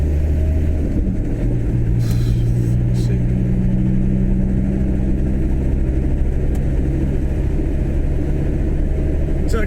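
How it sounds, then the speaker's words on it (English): Cars passing on the far side of a road near a closed stretch of the M9 at Linlithgow, a loud continuous traffic roar and rumble with no break, heard from close by. "Cars on the other side."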